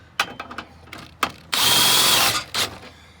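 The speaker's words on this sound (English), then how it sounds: "with a cordless drill, it is just super easy" A cordless drill runs briefly to crank the stabilizer jacks on a 2007 Fleetwood Niagara RV, a whirring burst of about a second between scattered clicks and clanks, close and moderately loud.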